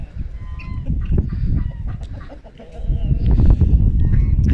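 Chickens, including a young rooster, and guinea fowl clucking and calling on a farm, overlapping close and mid-distance squawks and clucks over a continuous low rumble.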